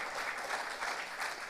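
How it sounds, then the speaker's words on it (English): Audience applause at an innovation summit, steady dense clapping from a crowd, moderately distant and continuous throughout. "A round of applause for your presence here today."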